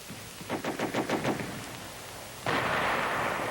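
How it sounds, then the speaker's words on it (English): An enemy heavy machine gun fires in a World War II training scene, giving a rapid burst of about eight sharp reports, followed after a pause by a sustained loud roar of gunfire or noise. "What happens if the advance is held up by something like this enemy machine gun?"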